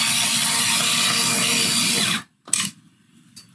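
An electric long point pencil sharpener grinds steadily on a pencil for about two seconds, loud and continuous, then stops abruptly, followed by a short burst as the pencil is briefly reinserted.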